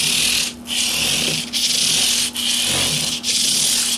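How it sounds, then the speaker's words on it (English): A '91 PRS Custom 24 guitar body is wet sanded by hand with 600 grit P grade sandpaper, in loud rhythmic rasping strokes broken by four brief pauses. "It's a 600 grit P grade wet sandpaper from StewMac."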